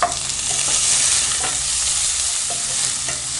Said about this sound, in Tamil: நல்லா பொன்னீர் வாங்குற வரைக்கும் வதக்கிக்கலாம்.